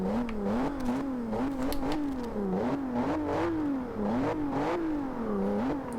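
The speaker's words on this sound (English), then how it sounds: "Ooh, that is a nice sounding exhaust." A 2015 Volvo S60 Polestar engine revs repeatedly in Forza Horizon 2, its pitch rising and falling in a steady cycle of throttle blips, loud and close.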